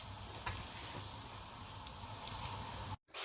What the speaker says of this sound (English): Heat up some wraps on the tawa.